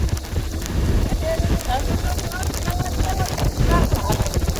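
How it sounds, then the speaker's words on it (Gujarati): Heavy rain falls steadily and loudly, rattling on surfaces, with wind rumbling against the microphone throughout. "સારો વરસાદ હો ભાઈ"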